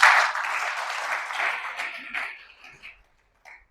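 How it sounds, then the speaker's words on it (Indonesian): A church congregation cheers and claps for God in a loud broadband roar that slowly fades out over about three seconds, leaving near silence. "Berikan sorakan bagi Tuhan"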